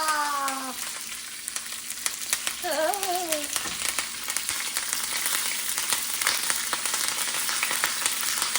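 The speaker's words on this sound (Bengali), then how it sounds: "উপর থেকে একটু তড়কা দেব, সেই জন্য 5 ফোড়ন।" Panch phoron spices tempered in hot oil for a tadka in a home kitchen, a continuous crackling sizzle with sharp pops throughout, joined by a brief whistling tone near the start and a short chirping sound shortly after.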